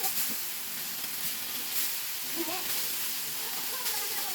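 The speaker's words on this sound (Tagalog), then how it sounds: "So prituhin natin yan sa mainit na mantika" Steady, loud sizzling and hissing of tuna fish frying in hot oil, with faint bubbling pops throughout.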